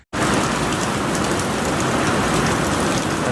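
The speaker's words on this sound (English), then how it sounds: "Another day of rain showers." Steady rain showers fall on a trail, a dense, continuous hiss of drops on surfaces that stays loud and even throughout after a brief silent start.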